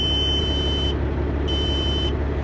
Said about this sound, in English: That beeping noise is my low air warning, which you must make sure that works on your truck.